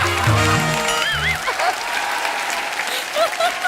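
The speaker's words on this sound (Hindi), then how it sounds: "मेरे लिए ताली मत बजाओ बेड़ो, इन लोग के लिए बजाओ" A TV comedy show studio audience bursts into loud applause and cheering. Brief musical notes sound at the start, then the clapping continues with voices calling out over it.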